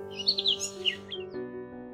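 Birds sing in short, bright chirping phrases over a steady tonal hum, clear and close for a couple of seconds before the song stops.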